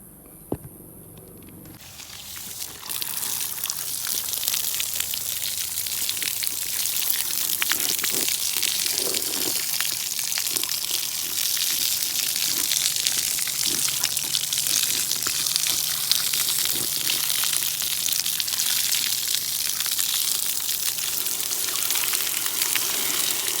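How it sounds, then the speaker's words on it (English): Water gushes steadily over an aftermarket cold air intake filter during a final rinse, a continuous hissing splash that starts after a brief quiet moment and keeps an even level throughout. "then I'll give it a final rinse"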